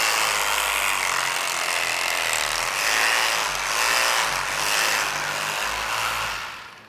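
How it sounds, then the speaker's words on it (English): A saw rasps steadily through a beef cow's brisket while the carcass is split, a loud, continuous gritty cutting sound with slight rhythmic strokes and no talking. "Now we will grab a saw."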